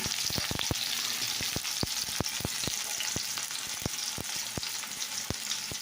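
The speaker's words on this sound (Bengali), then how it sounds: "তো পেঁয়াজ লঙ্কা কুচি এই তেলে দিয়ে দিলাম" Chopped onion and green chili sputter steadily in hot oil, a dense continuous crackle broken by sharp popping clicks spread through the whole stretch, close and moderately quiet.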